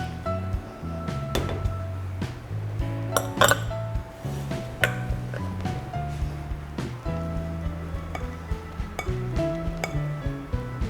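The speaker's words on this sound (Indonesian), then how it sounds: "aduk ininya ya, mixingnya ya" Flourless chocolate cake batter with whipped egg whites is mixed in a home kitchen bowl, with repeated clinks and scrapes of utensil against the bowl in an uneven rhythm, close and moderately loud.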